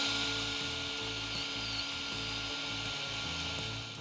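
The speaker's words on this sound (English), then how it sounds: "So we actually have to drill through the vent, the fiberglass, and the insulation, and the inside metal." A cordless power drill bores through a fiberglass and metal A/C vent door, its motor whining in a regular stuttering rhythm of short bursts, fairly quiet and close, with no talk.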